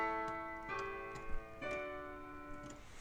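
A three-chord cadence moving from predominant to dominant to tonic, with each sustained chord struck cleanly in turn and heard alone at moderate volume.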